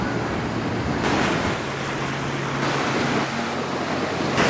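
Ocean surf rolls onto a beach in Sri Lanka during monsoon season, a steady broadband wash of waves with wind buffeting the microphone and swells surging and easing in a slow rhythm.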